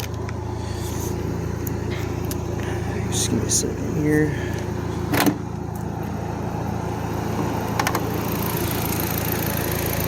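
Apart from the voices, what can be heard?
2002 Volkswagen GTI exhaust note, TT225 engine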